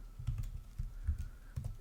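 Java code is typed on a computer keyboard as a quick series of soft, close keystrokes in an uneven rhythm.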